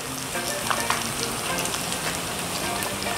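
Honey-glazed pork ribs with cashews sizzle and crackle steadily in a hot wok, a busy continuous frying hiss with light scraping from stirring, fairly close.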